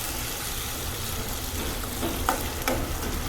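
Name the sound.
tomato paste and onion gravy sizzling while frying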